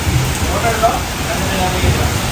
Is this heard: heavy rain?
yes